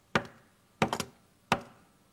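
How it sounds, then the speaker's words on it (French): A wolf knocks on the door of a brick house in a children's story: three solid knocks, evenly spaced and close, with the middle one a quick double rap. No voices are heard. "Le loup court derrière eux jusqu'à la maison de briques et il frappe à la porte."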